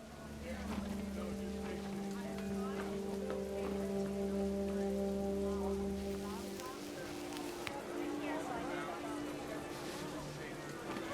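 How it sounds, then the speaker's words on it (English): Heavy rain pours steadily in the video game What Remains of Edith Finch, a dense patter of drops under a low sustained musical tone that fades midway, with speech present throughout. "The rain came down in buckets then"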